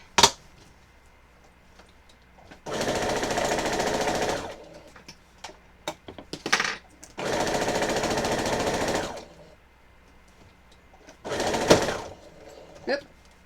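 A sewing machine stitches a quilt in three steady, buzzing runs of about two seconds each, separated by quiet pauses with small clicks and handling noises, while a person talks between the runs.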